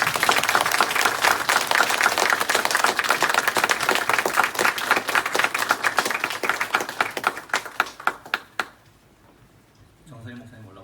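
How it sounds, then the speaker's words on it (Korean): Congregation applauding at a church installation service for a pastor's council president, dense sustained clapping filling the room for about eight seconds before tapering off into quiet, followed by a brief voice at the end. "박수."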